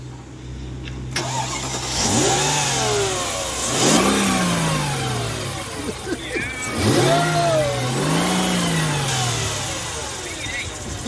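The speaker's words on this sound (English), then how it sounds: "Jason, start it up." A Mercedes S430 V8 engine cranks and catches, then revs up and down in a couple of strong swells, close by, with voices talking over it.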